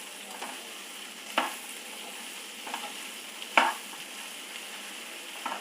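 Turmeric powder sautéing in a little oil, a soft low sizzle with a few sharp stirring scrapes at intervals, fairly quiet and close.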